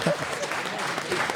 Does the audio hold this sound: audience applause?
yes